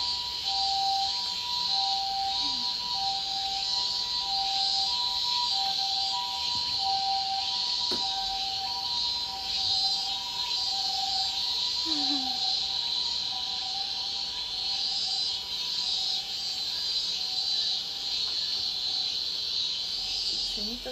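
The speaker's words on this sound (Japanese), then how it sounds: "セミとピーポーはちょっと夏休み感強すぎるな。" Cicadas drone steadily through a summer day, a constant high buzz, while an ambulance siren wails faintly in the distance beneath it.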